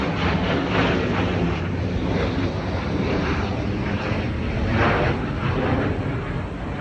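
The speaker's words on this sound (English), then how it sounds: "Oh, there's an air show today." An aircraft at an air show passes overhead with a broad, steady engine roar that stays loud throughout and swells slightly near the end, with no voices over it.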